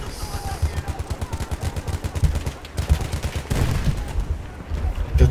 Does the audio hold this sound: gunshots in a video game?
yes